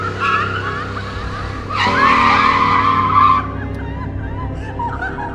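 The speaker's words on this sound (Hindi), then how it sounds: "वह अचानक ही यह देखते हुए गाड़ी को रोक देता है।" A car brakes hard and its tires squeal in a loud, sustained skid of about two seconds, rising over a steady engine drone before the noise settles back down.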